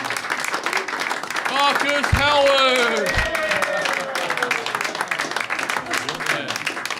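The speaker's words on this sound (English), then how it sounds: "Round of applause, round of applause, round of applause." A comedy show audience applauds and cheers while a host announces a comedian's name over the crowd noise, with steady clapping continuing under voices.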